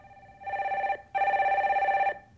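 Telephone ringing as a caller is put through on a live Korean stock-market call-in broadcast: two loud electronic rings, a short one then a longer one, close and clear with no talk over them.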